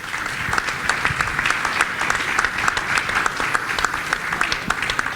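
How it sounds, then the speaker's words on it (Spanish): Warm audience applause at an international economic colloquium for a central bank president and a finance minister, sustained crisp clapping from a large crowd throughout. "para quienes pedimos un fuerte y caluroso aplauso"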